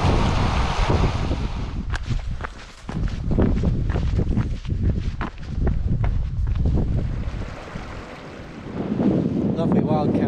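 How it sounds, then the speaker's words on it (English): Strong wind blows down a Cumbrian valley, buffeting the microphone in loud, gusty roaring surges that ease briefly and then return. "the direction of the wind will not allow it today. It's blowing down this valley."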